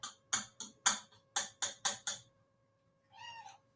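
A house cat meows once, a drawn-out, tonal call heard close and clear after a run of rhythmic ticking or tapping sounds, with no talking.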